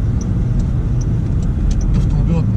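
A 2020 Jaguar I-Pace EV400 electric car accelerating, heard from inside as a steady heavy low road and drive rumble with faint tonal whine, loud and continuous throughout.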